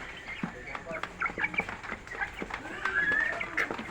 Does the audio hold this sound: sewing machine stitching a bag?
no